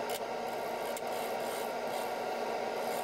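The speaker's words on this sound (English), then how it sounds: "smoothing out the resin." Cured epoxy resin on a turned maple workpiece is smoothed with a continuous, even rasping rub, close and moderately quiet, with a couple of brief scrapes near the start and at one second.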